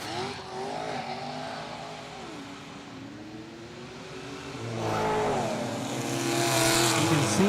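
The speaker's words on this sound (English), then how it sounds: "Right-hand lane in the BMW." A BMW fitted with a turbo diesel drag races down a street strip, its engine revving hard against a rival car, the roar swelling louder and closer in the final seconds.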